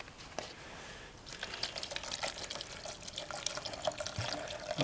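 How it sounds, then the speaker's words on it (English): Tap water pours into a pot of cut potatoes, starting as a soft hiss and building into a brighter, splashing stream with small clinks of the pot, moderately close and without talking. "Now I'm going to add water."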